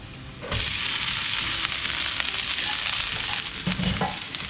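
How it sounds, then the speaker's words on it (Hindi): Rice goes into a hot frying pan for garlic rice, and after a brief quiet start a loud, close, sustained sizzle and crackle holds steady to the end. "अब मैं डालूंगा इसमें चावल।"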